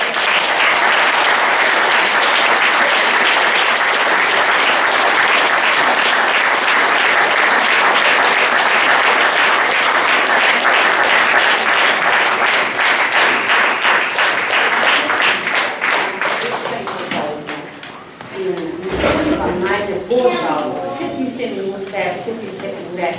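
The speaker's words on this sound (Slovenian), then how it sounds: "Tako da mislim, da si zaslužijo še en aplavz." Sustained, loud applause from an audience for a primary school drama group's play, steady clapping for around seventeen seconds before fading as a voice begins speaking.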